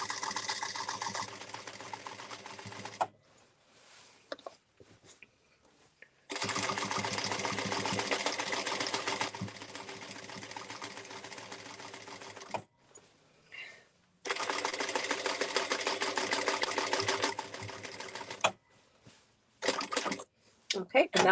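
An industrial sewing machine free-motion quilting a baby quilt runs in three long, steady bursts, loud and close, with short quiet pauses between them.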